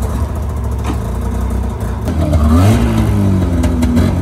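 A rebuilt snowmobile engine with new pistons and power valves runs and revs up, a rough, loud mechanical drone that climbs in pitch midway, with a brief voice present.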